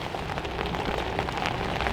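Steady rain comes down outdoors, a continuous close patter of many drops striking the ground and nearby surfaces, with no talking over it.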